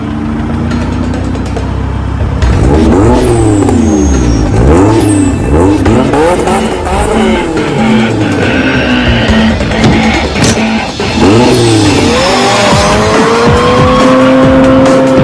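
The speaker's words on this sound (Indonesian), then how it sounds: "Ada mobil balap, mobil kecil." A small toy race car plays loud racing sound effects: continuous revving engine whines rising and falling, squealing tires and skids, running nonstop and close with no talk over it.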